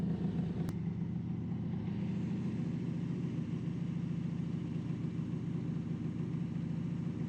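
A 2000 Honda Magna 750 motorcycle engine runs steadily at a low, even rumble throughout, close and continuous like a rolling idle, with no voices.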